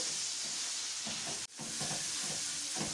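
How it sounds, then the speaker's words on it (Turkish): Rice and meat sautéing in a pan give a steady, loud sizzle throughout, broken by a brief dip near the middle, with soft stirring scrapes over the hiss. "pirincimiz kavruldu. Karıştırdık, kavurdu."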